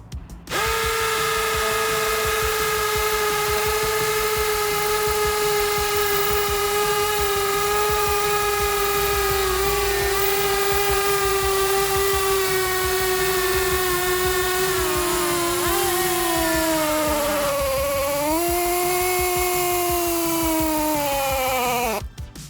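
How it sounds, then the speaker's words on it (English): A DeWalt hammer drill with a 3/16 inch Diablo multi-material bit runs continuously at a loud, steady pitch while boring into a concrete slab, its whine dipping briefly under load before stopping. "this will make a good slab for destroying with hammer drill tests"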